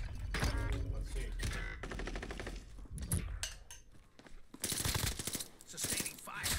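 Rapid bursts of gunfire from a Warzone match crackle through most of the stretch, dense automatic volleys with short gaps, loud and close, while a voice talks over the shooting.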